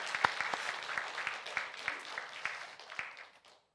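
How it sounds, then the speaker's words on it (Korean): A congregation claps together during a Sunday church service, a quick, dense patter of hands that stays steady, then fades away toward the end. "수고하신 분들을 위해서 우리가 박수를 한번 경험하겠습니다"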